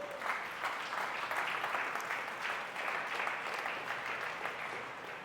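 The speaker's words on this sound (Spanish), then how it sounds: "Aplaude al Señor." Church congregation applauding during a sermon: a sustained, even patter of many hands clapping in a hall, moderately loud and continuous, with no voice rising above it.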